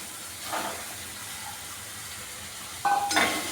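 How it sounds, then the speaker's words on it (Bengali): Fried eggs drop into a pan of sizzling spice masala, giving a steady hiss of oil with brief bursts of louder frying as they land. "যখন মশলার গা থেকে তেল বেরিয়ে এসছে, আমি এই ভেজে রাখা ডিমগুলো আমি দিয়ে দিলাম।"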